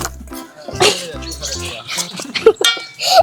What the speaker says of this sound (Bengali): ডিমটা এবার নেড়ে নিচ্ছি